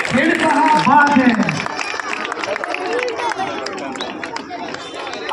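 Audience applause and crowd noise at a dog show held at an agricultural and livestock exhibition in Chiplun, with clapping and babble under loud amplified announcing.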